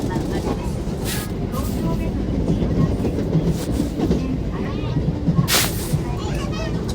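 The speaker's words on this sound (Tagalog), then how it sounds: "Ito pala yung train na ano guys, papunta sa Shibuya" A commuter train in Japan rolls toward Shibuya, a continuous low rumble with rhythmic clatter and occasional hissing bursts inside the carriage, while people talk over it.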